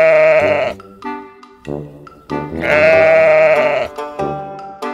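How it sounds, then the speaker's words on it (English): Sheep bleat loudly and close by, several long wavering calls in a row with short pauses between them. "Sheep."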